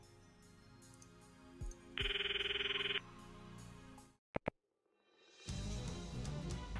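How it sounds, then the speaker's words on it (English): A phone rings in the visual novel game Steins;Gate, a steady electronic ringtone burst of about a second standing out from quiet game background, followed by a couple of sharp clicks and then a fuller wash of sound. "So let's call Mayuri."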